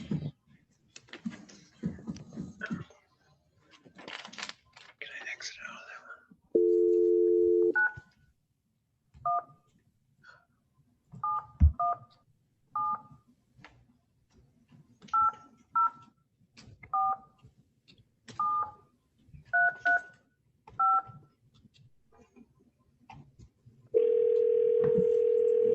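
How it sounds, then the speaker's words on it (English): A phone dialing out: a steady dial tone, then a string of separate keypad tones at an uneven pace, ending on another long steady tone. The sound is clear and close, with no talking over it. "Let me see if I can get him by phone."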